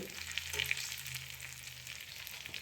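Steady hiss and crackle of spices frying in hot oil as tempering for okra sambar, a continuous sizzle with small pops, faint and close, no voices.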